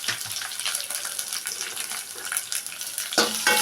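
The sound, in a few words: frying dry red chillies and onions in a pan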